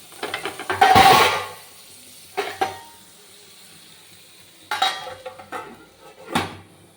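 Potatoes and carrots frying in a pan for a simple evening tiffin, with loud clinks of a utensil against the pan and intermittent scraping stirs, separated by quieter stretches of low background hum.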